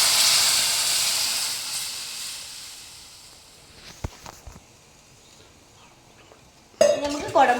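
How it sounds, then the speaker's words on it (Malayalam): Boiled water poured into a hot pot of fish head curry with tomatoes sets off a strong steamy hiss that slowly fades, followed by a few sharp metal clinks and clatters near the end. "ഇനി നമുക്ക് തിളപ്പിച്ച് വെച്ച വെള്ളം ഒഴിക്കാം."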